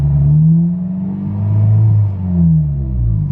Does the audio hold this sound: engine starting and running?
yes